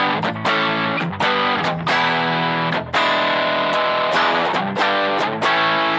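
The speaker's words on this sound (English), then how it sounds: "Now this is the tube screamer." Electric guitar chords through a Tube Screamer overdrive on a Boss GT-1000 ring out in short, repeated bursts, overdriven and sustained, with brief gaps between strums.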